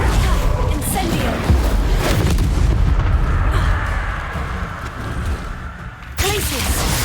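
A fire spell is cast in the Hogwarts Legacy video game, giving loud, dense bursts of whooshing, crackling fire and booming combat effects over rumbling game sounds, with a fresh blast near the end.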